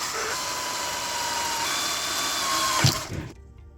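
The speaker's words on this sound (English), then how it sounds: "I'm gonna try and drill this out and tap it for a bigger size" A power drill drills out a grub screw on an RC car, whining steadily for about three seconds, a continuous mechanical buzz, then stops with a short clatter before quiet.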